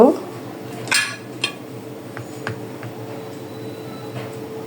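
A bowl of milk and lachchi semai dessert ingredients shaken in a kitchen, giving a few sharp close clinks against a quiet background, the loudest near the start.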